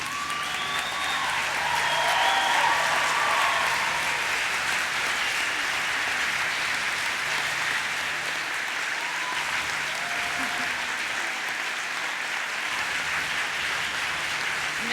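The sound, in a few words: graduation audience applause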